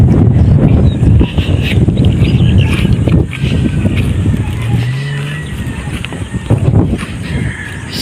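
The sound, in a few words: strong wind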